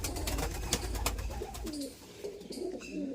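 Pigeons coo in a newly built coop, soft low calls repeating over steady background noise, with no talk.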